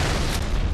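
A short, dense, booming grenade blast from the video game Halo 3, loud and close, filling the moment with a wide roar.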